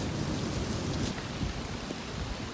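Steady rain falls at a bottle dump dig site in Fife, Scotland, a soft continuous hiss of drops pattering on the ground throughout, with no voices.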